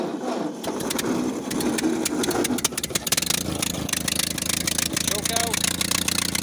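A small engine started with the key and a little choke after its carburetor was cleaned, sputtering then catching into a busy, rapid mid-pitched idle that runs close and loud throughout.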